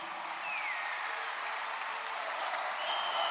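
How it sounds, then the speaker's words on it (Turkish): A crowd at an award ceremony for young achievers in Gaziantep bursts into steady, sustained applause, a dense wash of clapping that holds at an even level throughout with no talk over it. "Güçlü bir alkış."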